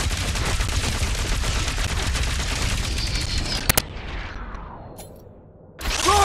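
Rapid gunfire sprays at a big robot in Marvel's Guardians of the Galaxy game, a loud dense barrage of shots that stops abruptly, followed by a sharp burst, a fading rumble and then renewed firing.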